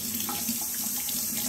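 Hot water runs steadily from a tap into a sink, a continuous close splashing hiss that holds even throughout.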